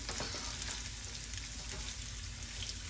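Onions, poblano peppers and rice frying in a pan for green rice, a steady close-up sizzle with faint stirring scrapes, continuous and even with no talking.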